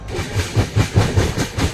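The Gandhigram Express rolls past close by with a loud, steady rhythmic clatter of wheels over rail joints and a hissing rush of air.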